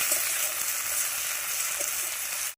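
Spice paste fries in oil for a fish-head muri ghonto made with catla head and Gobindobhog rice, giving a close, steady bright sizzle that cuts off abruptly at the end.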